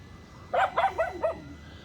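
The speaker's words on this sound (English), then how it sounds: "Sometimes they're in the gated area there, and then they bark." A dog in a gated yard in the Philippines barks four times in quick succession, fairly loud and close, with no voices over it.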